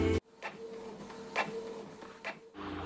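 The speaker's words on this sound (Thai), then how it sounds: "เราก็ใช้กระดาษ A4 และเครื่องพิมพ์ค่ะพิมพ์ลายคริสต์มาสที่เราชอบนะคะ" An A4 printer runs through a print job of Christmas designs, a mechanical whir with several short clicks and feed bursts, ending in a louder rising motor noise.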